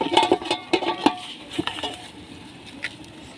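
A lid set down over a pot of stuffed cabbage cooking on an outdoor clay stove: a few close, sharp metallic clatters and knocks in quick succession, then fading to quiet room noise.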